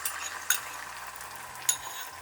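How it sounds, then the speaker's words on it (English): Eggs fry in an oiled, hot stainless steel pan: a close, steady sizzle with two brief sharp clinks partway through, no voices. "Now gently add the eggs."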